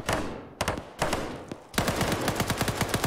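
Machine gun fire in the military shooter Arma 3, with a few separate bursts followed by a rapid continuous stream of shots, fairly distant and mid-level, with no talking.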